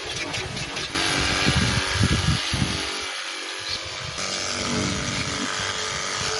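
TEMU cordless pressure washer running a jet of water, a loud continuous hiss and spray with a motor whine, close up, cutting in abruptly and holding steady with slight shifts in tone.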